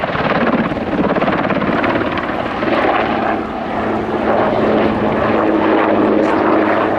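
A twin-engine Puma helicopter flies close by in an air show display, its rotor and turbine engines producing a loud, steady whirring roar that swells slightly as it maneuvers.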